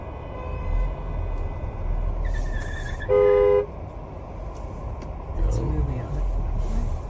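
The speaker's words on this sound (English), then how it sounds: "it sounds like the truck driver was honking to get them to move" Under a steady traffic rumble, a loud truck horn blasts once for about half a second, with quieter honks and engine noise around it.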